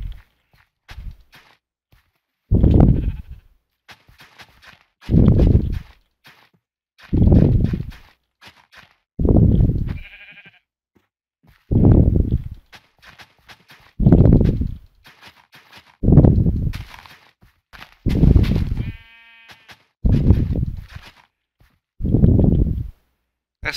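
Minecraft sheep bleats repeat about every two to three seconds, loud and close, each a short wavering cry with brief quiet gaps between.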